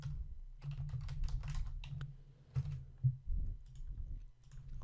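Close-up typing on a computer keyboard, an uneven burst of light key clicks that pauses briefly and then resumes with a few heavier taps, with a low hum underneath.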